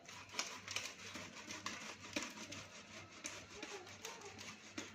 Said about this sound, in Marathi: आता आपण किसणीच्या साह्याने आपले जे बटाटे आहेत ते आपण किसून घेणार आहोत